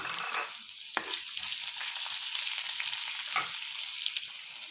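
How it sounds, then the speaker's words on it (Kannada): Finely chopped onions sauté with curry leaves in a steady, fairly quiet sizzle, with a couple of brief stirring knocks. No one speaks. "ಆಗ ಈರುಳ್ಳಿ ಹುರ್ಕೊತಾ ಇದ್ದೀವಿ"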